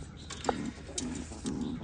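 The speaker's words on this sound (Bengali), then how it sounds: "এই যে কবুতর" A pigeon coos softly, a few low rounded calls in quick succession, heard at moderate distance against faint background noise.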